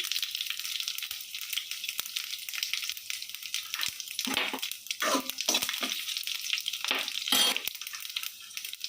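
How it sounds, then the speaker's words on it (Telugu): Mustard seeds, cumin, pepper and chillies fry in hot oil for mango rasam, a continuous crackling sizzle close by with several louder bursts of spattering in the second half. "ఆయిల్ హీట్ అయిన తర్వాత ఆవాలు జీలకర్ర మిరియాలు వేసుకుందాం కొంచెం వేగిన తర్వాత మిరపకాయలు వేసుకుందాం"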